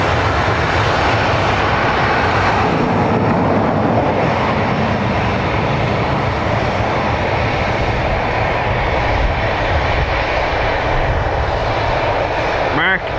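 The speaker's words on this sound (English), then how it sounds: "A321 Neo next from Munich." Airbus A321neo airliner arriving from Munich at Dublin Airport, a loud, close, continuous engine roar with broadband rushing noise that stays strong from start to finish.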